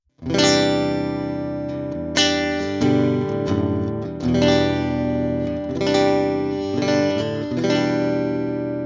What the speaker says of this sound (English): let's just hear the amp on its own right now as it is